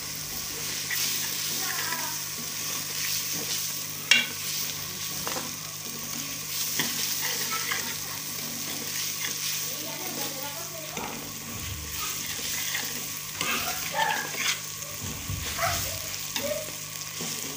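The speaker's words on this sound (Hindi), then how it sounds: "अभी जो है दाल ऐड करती हूँ बिस्मिल्लाह भुनाई करते हैं" Dal roasting in a pan of fried spices in a village kitchen, a steady close sizzle with scraping and stirring strokes throughout, a sharp clink near the start and busier stirring later.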